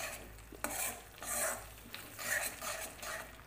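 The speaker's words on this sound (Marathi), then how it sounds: "थोडंसं आपल्याला व्यवस्थित अजून परतायचं आहे जेणेकरून ह्याला छान तेल सुटेल" Whole masoor dhaba-style gravy with Kashmiri red chilli powder is stirred and sautéed in oil, giving soft scraping strokes over a gentle sizzle, close and rhythmic, ending in a sharp clink.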